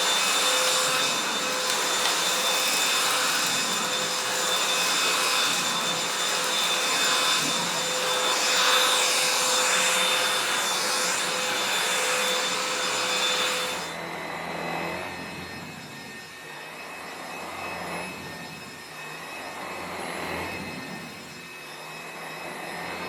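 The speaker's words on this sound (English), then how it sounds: "I must admit it's a really light vacuum cleaner." A Gtech Pro cordless bagged vacuum cleaner runs steadily close by, sucking up scattered rolled oats with a loud continuous whine that drops in pitch and softens partway through as the mode changes.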